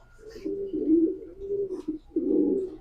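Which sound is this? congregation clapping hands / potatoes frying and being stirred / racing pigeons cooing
racing pigeons cooing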